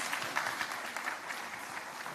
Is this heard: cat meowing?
no